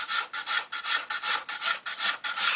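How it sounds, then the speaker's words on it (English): Sanding stick worked over the plastic bodywork of an Italeri 1/12 Lancia Stratos model, about a dozen quick rhythmic back-and-forth rasping strokes, close and alone. "sanding stick to get this area here"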